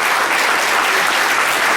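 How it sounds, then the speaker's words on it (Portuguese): A room at a municipal children's rights forum plenary in Porto Alegre breaks into a thick, continuous round of applause, loud and unbroken throughout. "Gostaria de pedir uma salva de palmas aqui pelo esforço"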